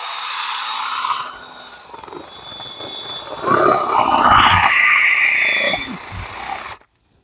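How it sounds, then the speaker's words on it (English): A drill working a hole through wood for an off-grid gravity drip irrigation setup, a close, loud strained whine that rises and grinds through the middle, then cuts off abruptly. "So I'm going to drill a hole through"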